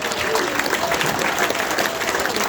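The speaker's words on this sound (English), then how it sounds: "How about a round of applause for Charles?" An audience at a veterans' honoring ceremony at an American Legion hall applauds an Army veteran receiving a Quilt of Valor, steady close clapping from a crowd filling the whole moment.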